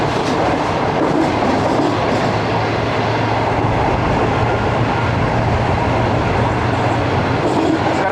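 Karachi Express train rolling past on the rails, a loud, steady roar with rhythmic wheel clatter close by throughout.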